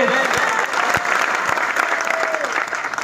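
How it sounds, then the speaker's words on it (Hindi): A crowd at a political rally applauds loudly and steadily throughout, dense clapping filling the space with a few sharper claps standing out. "जोरदार ताली बजाए इनके नाम से"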